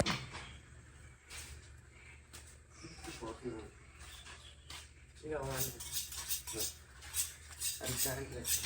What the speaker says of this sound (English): I guess the knife is not sharp enough